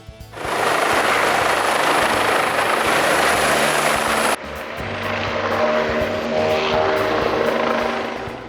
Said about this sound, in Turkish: Bell 429 medikal helikopter